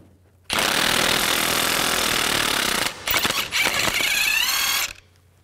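Impact gun loosening a 22 mm jam nut on the inner tie rod of a 2004-2008 Nissan Maxima: a loud, continuous close-up hammering rattle for about two and a half seconds, a brief pause, then a second burst of rattling as the nut spins off.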